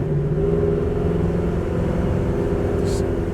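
A 1969 Chevelle SS engine idling, a deep, steady rumbling burble close by that holds even throughout, with no revving.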